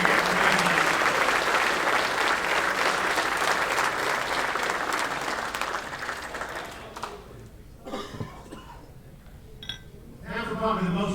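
A banquet crowd at a 2020 golf association celebration claps for the season's players of the year, a full, steady round of applause with faint clinks of glasses that fades out by about seven seconds, followed by scattered talk and a few stray claps.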